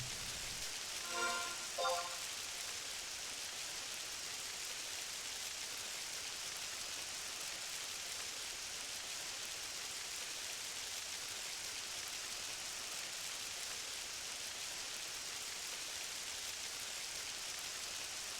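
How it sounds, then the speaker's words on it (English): Steady rain in the video game Final Fantasy XI falls with a constant hiss, a couple of brief soft blips near the start, otherwise unbroken and fairly quiet. "Still raining."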